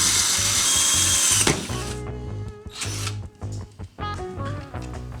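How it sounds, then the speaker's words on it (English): A power drill bores into a plastic paintball pod, its motor whining loudly and close before cutting out, then restarting in shorter bursts with a rougher, stuttering grind. "After you make your hole with your drill"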